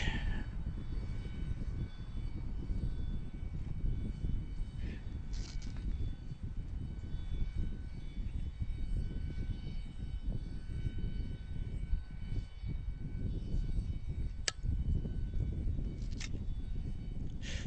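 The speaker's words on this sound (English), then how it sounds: "The planes are landing from the east." Airliners flying near Harrisburg airport as planes land from the east, a continuous broad engine roar filling the whole stretch with steady loudness, heard outdoors with a few faint clicks over it.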